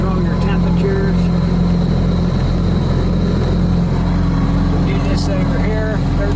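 Kubota diesel engine of a 2012 Bobcat S650 rubber-tire skid steer loader running at a steady idle, a loud constant low rumble with light mechanical whine, close up.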